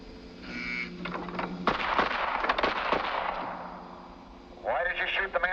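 Gunshots in a 1948 crime film: a burst of sharp, close reports crackling over about a second and a half, surrounded by film score and background sound, with no talking.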